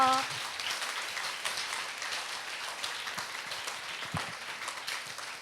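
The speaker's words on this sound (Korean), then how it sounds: "저희 들어갔을 때까지 큰 박수로 환영해 주세요." Steady, fairly quiet applause from a church young adults' congregation welcoming new members, a continuous patter of clapping with a brief voice at the start.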